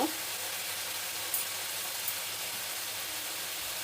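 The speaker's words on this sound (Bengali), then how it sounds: "এবার ভালো করে কষাতে থাকবো।" Onion and mango sauté in a hot pan for a tangy-spicy rui fish dish, giving a steady close sizzle with a couple of faint clinks of a stirring utensil.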